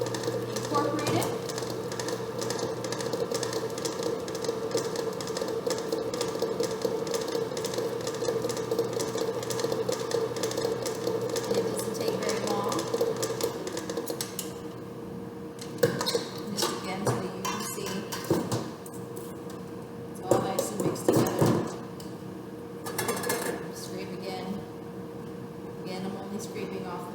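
A stand mixer beats oatmeal fudge bar batter, its steady motor whir running for a long stretch, then giving way to knocks and clatters of bowl and beater while a person talks over it.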